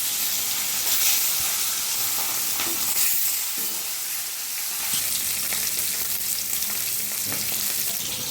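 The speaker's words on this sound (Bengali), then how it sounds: "তেল গরম হয়ে গেছে, আমি মাছগুলো দিয়ে দেবো।" Fish fries in hot mustard oil in a kadai, giving a dense, steady sizzle that holds from start to finish, close and fairly loud, with no talking.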